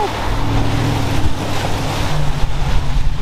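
A truck drives through deep water and mud near Moab, Utah, with a loud continuous rush of splashing and churning over a low engine rumble, close and dense throughout, no talk.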